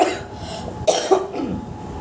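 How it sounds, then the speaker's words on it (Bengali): A persistent cough, three or four harsh, close bursts spaced unevenly over a quiet room background, with a throaty, raspy edge. "কাশি কিছুতেই কমছে না"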